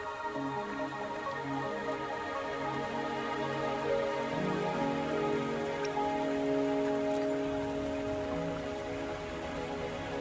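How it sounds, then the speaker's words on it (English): Steady rain pours down in the video game Wuthering Waves, a dense continuous patter of drops on surfaces, with a low musical drone underneath, no voices. "Are you trapped here by the rain?"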